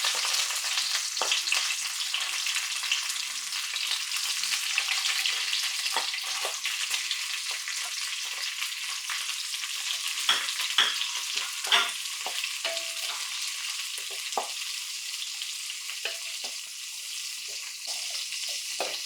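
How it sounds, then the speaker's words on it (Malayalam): Cashews and raisins fry in hot oil for Kerala-style fried rice. The sizzle stays steady and close, with stirring scrapes and small crackles over it and no talk. "കശുവണ്ടിയും മുന്തിരിയും കൂടെ വഴറ്റി നമ്മൾ കോരി മാറ്റുവാണേ"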